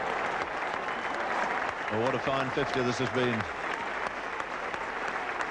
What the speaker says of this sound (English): Good applause, and the Pakistan contingent there under the scoreboard.